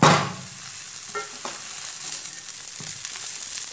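Dosa batter cooks on a hot pan, producing a steady, soft sizzle throughout, with a brief louder crackle at the start and a few faint scrapes.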